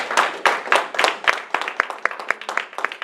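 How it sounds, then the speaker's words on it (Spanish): A church congregation claps in praise, a series of sharp, fairly regular claps standing out over a dense background of hand claps, close and lively. "Dele un aplauso al Señor."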